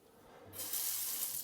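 A bidet tap in a Spanish home is turned on, and after a quiet moment a steady rush of running water starts and continues, clear and close, with no voices.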